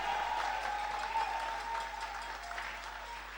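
A church congregation applauding during a sermon, steady dense clapping from many hands in a large room, fading slightly toward the end.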